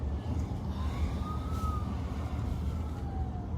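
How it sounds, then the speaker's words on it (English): Fire truck siren wailing from some distance, one long rising and falling tone over heavy road rumble and engine noise, with no talk. "It must be another fire truck."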